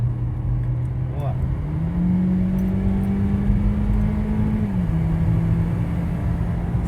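2014 Honda Vezel car with replaced injectors and a lean-mixture fault, driving and accelerating. A steady low engine drone rises in pitch and holds under road noise inside the cabin.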